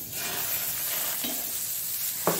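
Ragi dosa batter spread on a hot iron griddle gives a steady, close sizzling hiss, with a couple of brief scraping clicks near the middle and the end. No one speaks.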